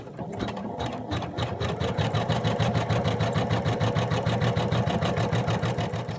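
A sewing machine runs steady top stitching along fabric pants, a close, even rapid clatter of needle strokes that starts with a few slow stitches and settles into a constant fast rhythm.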